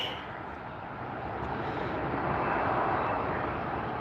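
Airplane taxiing at LAX airport, a broad, steady jet engine roar that swells gradually louder as the aircraft nears, with no speech over it.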